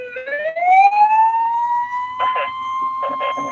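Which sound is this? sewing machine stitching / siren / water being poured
siren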